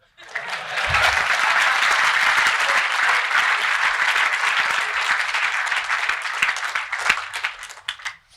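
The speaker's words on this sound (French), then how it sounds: "C'est là qu'il faut applaudir." A conference audience at a security hacking event applauds loudly and steadily for several seconds, dense clapping that swells then thins out toward the end, with a few scattered claps trailing off.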